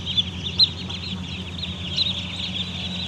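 Some 1,100 chicks in a poultry house peeping in a dense, continuous high chorus, fairly close, with a low mechanical hum beneath.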